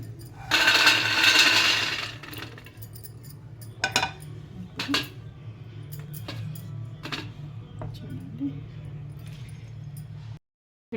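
Roasted makhana in a hot pan on a switched-off stove is shifted into a bowl, giving a loud burst of rattling and scraping followed by scattered metallic clinks and taps, close up.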